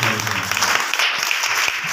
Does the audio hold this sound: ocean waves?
no